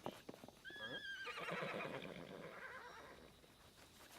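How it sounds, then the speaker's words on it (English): An angry horse in Pathfinder: Kingmaker lets out one loud, shrill whinny that wavers and trails off into a snort, with faint hoof sounds around it and no talking. "So that is an angry horse, wherever it is."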